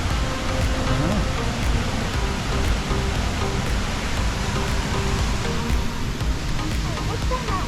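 Waterfall in Stowe, Vermont, a steady loud broadband rush of falling water filling the whole stretch, with people talking faintly over it.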